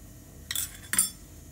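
A spoon clinks twice against a bowl while lemon juice, turmeric and salt are stirred together, two bright close taps in a quiet kitchen.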